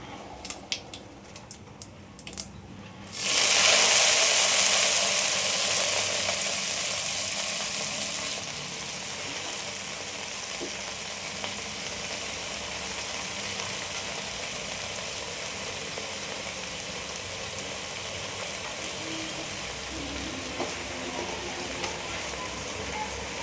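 Chilkarive greens added to a pan of hot oil with cumin and mustard seeds: a few small pops, then a sharp loud sizzle that gradually eases into a long, steady frying hiss.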